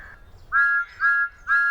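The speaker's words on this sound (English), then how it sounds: "With a flap and a squawk, the crows flew away." Crows in a Thomas & Friends animated farm scene squawk three times in quick succession, each a short, bright, harmonic call rising out of a quiet background with no talking.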